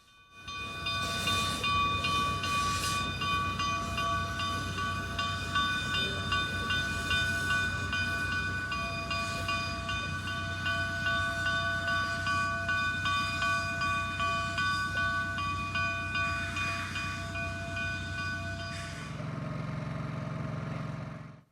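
A steady mechanical rumble and hiss from idling narrow gauge steam locomotive 488 of the Cumbres and Toltec railroad, with sustained tonal whine and intermittent clanks, continuous and close.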